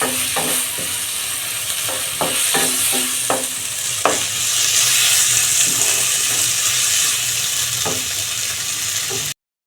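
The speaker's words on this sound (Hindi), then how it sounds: "नमक ऐड करके इसको चला लेंगे अच्छी तरह से।" Tomatoes and salt stirred in a pan while making Punjabi-style sarson ka saag, with a steady sizzle and repeated spoon scrapes and knocks against the pan, close and fairly loud, with no talking.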